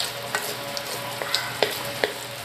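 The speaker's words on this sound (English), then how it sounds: "So we will just saute it together. We will just mix it together." Tuna carbonara ingredients are sautéed and mixed in a pan, a steady close sizzle with several distinct clinks and scrapes of stirring, no voices over it.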